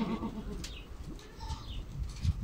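Goats and kids on a highland pasture in Silifke give faint, scattered bleats against a low outdoor background, with a bird call or two mixed in.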